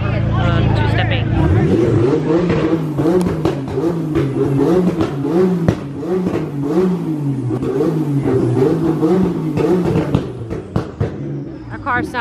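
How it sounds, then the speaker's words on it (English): A car engine revs hard at an open-house car show, loud throttle blips rising and falling repeatedly over a continuous engine drone, with crowd chatter and talk underneath. "That car sounds like"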